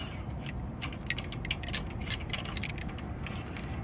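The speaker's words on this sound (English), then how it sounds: "gonna unscrew them right now. Take out all 5 bolts." Lug bolts being loosened on the wheel of a 2018 Toyota Corolla, with a steady ratcheting, clicking mechanism close by, repeated rapid ticks running through the whole stretch without talk.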